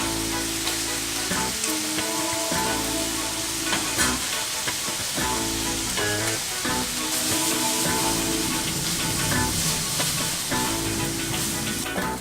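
Beef sizzles loudly in hot fat with garlic, ginger and a whole shredded green chili, a steady crackling fry with dense spitting that runs unbroken throughout.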